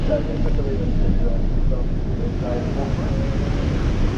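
Ocean waves and wind buffet a cruise boat out on the bay, a steady rushing roar with wind blowing across the microphone throughout.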